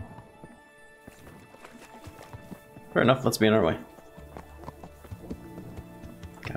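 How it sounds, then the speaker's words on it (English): Horse hooves clip-clopping in the medieval video game Kingdom Come Deliverance, a brief burst of loud hoofbeats midway amid quieter game sounds, with someone talking over it. "Yeah, that is a nice looking horse."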